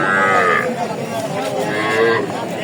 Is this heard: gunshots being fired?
no